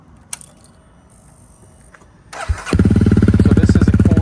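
Honda CRF300L fitted with a Yoshimura RS4 full exhaust, baffle installed, cold-started: a few quiet clicks, then a cranking whir and the single-cylinder catching into a steady, loud, rapid thumping idle.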